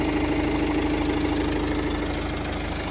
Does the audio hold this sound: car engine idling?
yes